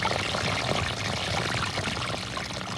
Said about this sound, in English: gurgling waterfalls